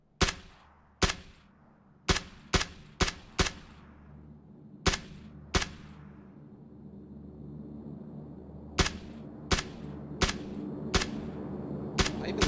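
Sniper rifle gunshots in PUBG, a series of sharp, loud single cracks spaced irregularly, some in quick pairs, each ringing briefly over a low steady background hum without speech.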